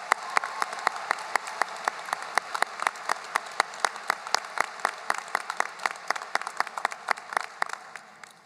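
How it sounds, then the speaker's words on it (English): A high school graduation audience in a hall breaks into sustained applause, dense clapping with sharp individual claps standing out, steady and moderately loud throughout without any talking. "Let's give a big round of applause."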